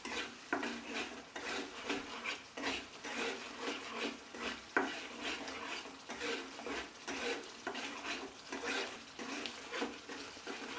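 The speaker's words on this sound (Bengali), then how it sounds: "মশলাটা আমি অনবরত নাড়তে থাকবো, নইলে মশলাটা বসে যেতে পারে" Masala with sour yogurt fries in oil in a pan for matar paneer and is stirred without pause, making rhythmic scraping and clinking strokes over a soft, continuous sizzle, fairly close.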